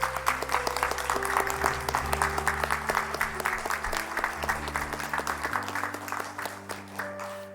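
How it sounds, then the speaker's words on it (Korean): A congregation applauds the church choir during a Korean worship service, moderate clapping in rhythmic swells over sustained organ-like chords that shift near the end. "우리 이분들 위해서 이 시간 한번 그 감사의 박수를 먼저 드리겠습니다."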